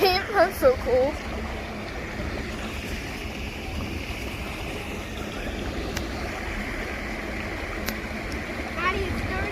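Rushing muddy flash-flood water from a June storm at Eagle Mountain, a steady broadband roar throughout with a few voices talking near the start.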